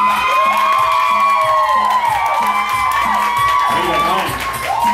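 A crowd at a bingo hall karaoke game cheers loudly, with whoops, excited shouting and children's yells blending into a continuous, close roar that slowly eases.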